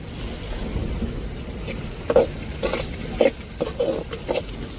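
Curry leaves are tossed into a pan of frying tomato, onion and green chilli for a squid chukka: a steady low sizzle runs throughout, broken by scattered scraping and clicking stirs of a spoon against the pan.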